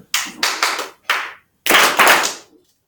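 A group of people claps a rhythm together in a classroom: sharp, loud bursts of clapping in uneven groups with a short pause before a longer final burst, and no talking.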